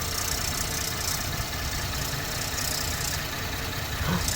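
Ford Explorer EcoBoost engine idling, heard from directly underneath the vehicle: a steady, close, broadband hum and rumble with a faint rattly edge that continues evenly throughout.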